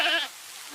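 A goat gives a single short bleat, close and fairly loud, then fades into a soft background hiss.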